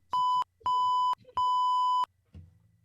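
Three loud electronic censor beeps, each a steady pure tone lasting about a third to two-thirds of a second, separated by short silences, with faint voices between them.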